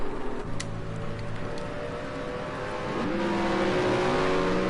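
A GT race car pulls out of the pit lane on wet tyres at a British GT round, its engine droning steadily and then rising in pitch as it accelerates away, moderately close.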